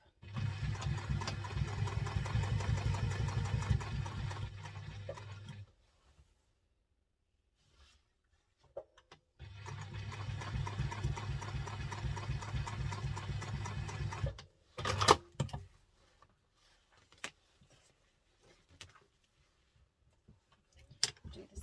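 A sewing machine stitches across the top of a bowler bag in two steady runs of several seconds each, its rapid needle thump close and even, separated by pauses with a few soft clicks and handling sounds.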